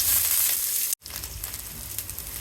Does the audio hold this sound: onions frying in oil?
yes